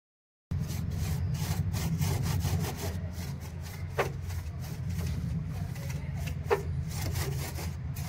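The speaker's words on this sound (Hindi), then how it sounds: "ग्रिल को साफ़ करने के लिए इसे सॉफ्ट ब्रश का प्रयोग करें ताकि ये कोने कोने में जाकर वहाँ की गंदगी को" A soft brush scrubs dirt off the grille of an LG dual inverter split air conditioner. The rhythmic rasping strokes are close and continuous, with a few sharper clicks along the way.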